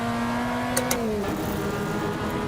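Simulated race car on the Red Bull Ring circuit in Austria, its engine holding a loud, steady high whine that shifts and drops in pitch midway, with no talking.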